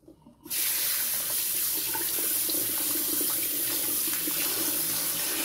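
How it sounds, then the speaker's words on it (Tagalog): A kitchen tap turns on and runs in a steady, close stream while ginger root is washed under it for a chicken adobo recipe. The water splashes continuously, with no voices. "At hugasan natin yung ating luya."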